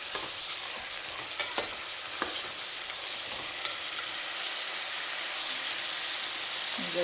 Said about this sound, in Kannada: ನೀಟಾಗಿ ಹಸಿ ವಾಸನೆ ಹೋಗೋವರೆಗೂ ಫ್ರೈ ಮಾಡ್ಕೋಬೇಕು,